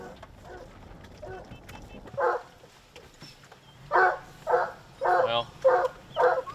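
Bear-hunting hounds bark from the distance, first a few scattered yelps and then a run of five steady, evenly spaced barks, with a faint murmur of voices underneath.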